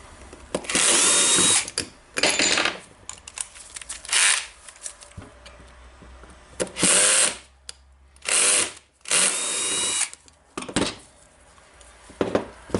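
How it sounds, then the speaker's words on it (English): A power screwdriver unscrews four screws from a Makita BJV180 jigsaw during disassembly: about seven short, loud whirring bursts separated by quiet pauses and small clicks of handling. "Now we have 4 screws here, 2 here and 2 here, and I will unscrew them."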